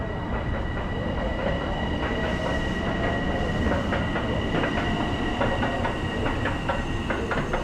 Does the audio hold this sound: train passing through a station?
yes